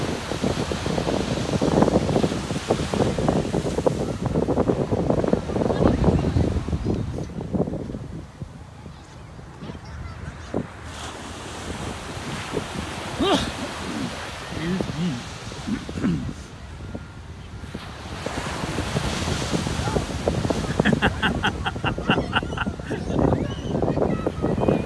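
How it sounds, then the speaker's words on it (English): Ocean waves breaking on a beach with gusty wind buffeting the microphone, a loud rolling surge that fades and returns, with children and family voices talking throughout. "learning about the ocean"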